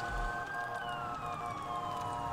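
An ambulance siren wails during a chase in the video game GTA V, a steady electronic tone sliding slowly downward over engine rumble, moderately loud with no talking.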